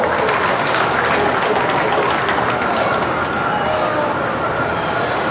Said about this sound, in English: Let's give the children a round of applause.